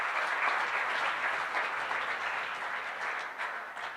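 Sustained audience applause at a dance sport federation's annual general meeting, a dense, steady wash of many hands clapping that fills the whole stretch at moderate volume without talk.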